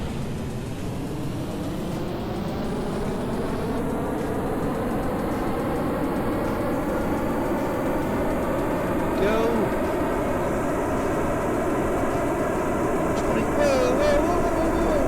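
Rocket engines roaring after ignition in Kerbal Space Program, a steady, loud broadband rumble that holds for the whole stretch, with a voice speaking over it.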